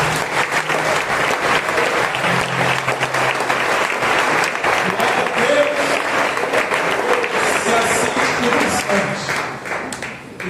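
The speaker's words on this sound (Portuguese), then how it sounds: "Vamos aplaudir o Senhor?" Congregation applauding during a New Year's Eve Lord's Supper church service, dense sustained clapping for about ten seconds that thins and fades toward the end, with some voices mixed in.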